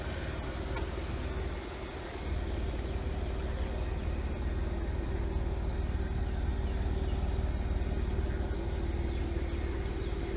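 A 2011 Jeep Wrangler Rubicon 4x4, Call of Duty Edition, idles steadily after running about twenty minutes, a smooth, even engine hum close by with a faint regular ticking, no voices over it.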